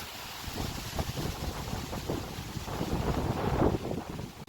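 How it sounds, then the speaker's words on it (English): Steady gusty wind in Scotland roars and buffets the microphone, rising and falling in strength throughout with a low rumble and no voices. "Because it's windy, because it's Scotland."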